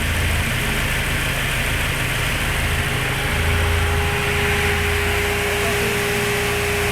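Three Spal brushless radiator cooling fans on a forced-induction Toyota GT86 run with a loud, steady broadband whoosh and a low droning hum close by.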